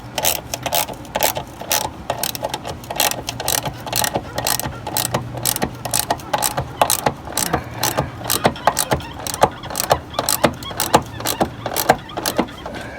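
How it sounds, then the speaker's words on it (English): A hand ratchet snugs up a body mount bolt under the cab of a 2012 Ford F350 pickup, giving a steady run of close, crisp clicks in quick strokes with short pauses, no talking. "We'll just snug it up with the ratchet."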